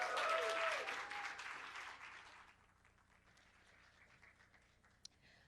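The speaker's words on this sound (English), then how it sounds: "I expect a huge cheer for her" Audience applause greeting a world champion poet at a conference event, a strong burst of many hands that fades over a couple of seconds to a faint murmur and a few stray claps.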